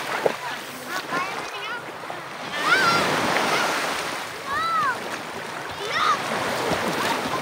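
Sea waves wash and splash close by in a breezy open setting, while excited people shout and talk over the surf.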